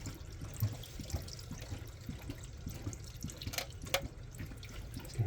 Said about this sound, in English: Some water coming out. See the water?